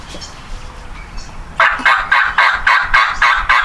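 Imitated turkey hen yelping, a loud series of about eight evenly spaced, sharp yelps that starts after a short quiet lead-in and continues steadily to the end.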